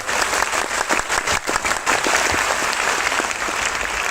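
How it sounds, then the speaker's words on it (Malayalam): An audience at an awards stage event breaks into strong, sustained applause, many hands clapping densely and loudly for the full stretch. "ശക്തമായ കയ്യടിയോടുകൂടി"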